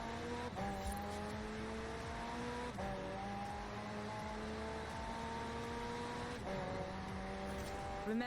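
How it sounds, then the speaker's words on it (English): McLaren P1 hybrid twin-turbo V8 in a racing video game, revving hard in steady rising sweeps with three sharp gear-change dips, a loud continuous engine drone and no talk. "This is a P1 McLaren."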